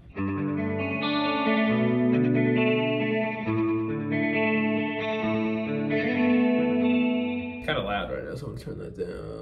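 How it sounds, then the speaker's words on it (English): An electric guitar with a delay pedal added to its pedalboard chain plays sustained chords, and the notes trail off with echoes; near the end the playing stops and a voice briefly speaks. "And then we add some delay"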